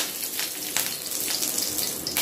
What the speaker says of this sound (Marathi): त्यात मी घालत आहे कढीपत्ता,